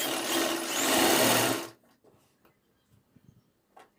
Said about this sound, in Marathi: ते आपल्या बाजूने परत अर्धा इंच शिलाई मारून घ्यायची शोल्डरलाच